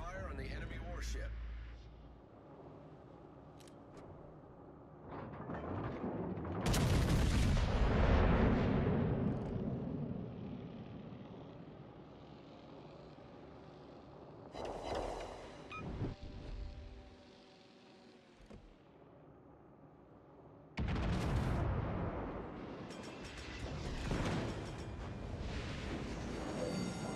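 Heavy warship guns fire at an enemy ship in a naval combat video game, with several loud booming salvos spaced apart over a continuous engine and sea rumble.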